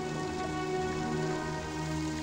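Steady rain pattering on a surface, a constant dense hiss with no voices, moderately loud throughout.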